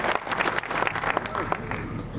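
Applause from a crowd at a village public meeting, a steady patter of many hands clapping with a voice talking over it throughout.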